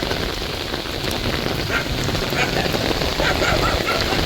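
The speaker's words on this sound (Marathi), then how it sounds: "पहिलाच पाऊस, जोरदार पाऊस पडलाय, जोरदार पाऊस" Steady, heavy downpour of the season's first rain in Baramati, a loud close hiss of drops striking surfaces that runs unbroken from start to finish.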